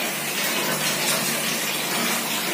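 Water gushes steadily while filling during washroom cleaning, a loud, continuous, close rushing sound with no talk.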